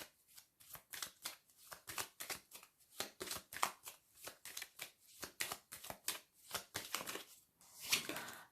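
Playing cards being handled and laid out during a card reading, a steady run of soft, close, papery snaps and slides at an even rhythm, faint overall and with no speech.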